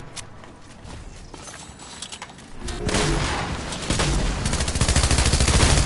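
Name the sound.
gunfire from the Fortnite video game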